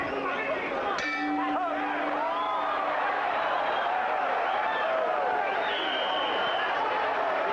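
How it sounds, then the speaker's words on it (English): A boxing ring bell clangs once with a ringing tone at a WBC super featherweight title bout, heard over a steady roaring arena crowd with faint commentary. "The bell sounding, but Nelson is not yet ready to resume."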